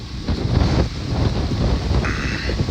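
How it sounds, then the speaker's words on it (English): Strong wind buffets the microphone outdoors at a school demolition site, a steady low rumbling roar with gusty surges throughout. "Windy day again. Day 2 of windiness."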